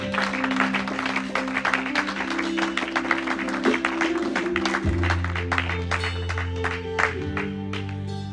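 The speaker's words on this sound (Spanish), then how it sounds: "Alguien le da un aplauso fuerte al Señor" A church congregation applauds steadily over sustained music, the dense clapping continuing throughout at moderate volume without a break.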